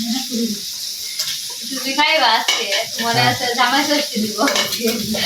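Food frying and being stirred in a pan in a Bengali village kitchen, a steady sizzle with scraping stirs and clinks of the pan, heard under someone talking throughout.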